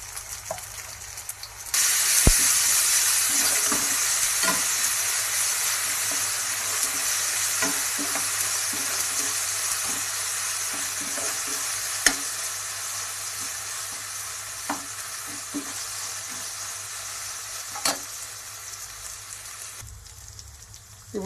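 Ginger garlic paste is stirred into browned onions frying in a pan, producing a steady loud sizzle that starts abruptly and runs on. Sharp spoon clicks and scrapes against the pan sound through it now and then, and it cuts off near the end.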